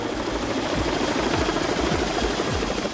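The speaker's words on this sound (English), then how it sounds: "helicopters arriving with more war wounded at the tent hospital" Helicopters arrive at a combat tent hospital, with a loud, continuous rotor thump and turbine roar that fills the scene with dense noise.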